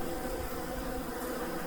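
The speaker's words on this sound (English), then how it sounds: "I hope you're enjoying listening to the bees." Bees, wasps and yellow jackets swarm around a feeder, producing a continuous dense buzzing drone, close and steady throughout the short stretch.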